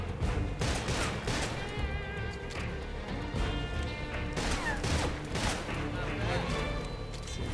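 Gunfire in the stealth game Metal Gear Solid Delta: Snake Eater, a steady busy mix of shots and sharp cracks over a game soundscape, with a voice talking over it throughout.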